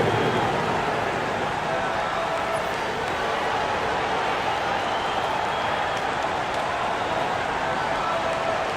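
Arena crowd in an NBA basketball game on PS5 cheering and clapping for a dance crew, a dense, steady wash of applause and noise that holds loud for the whole stretch.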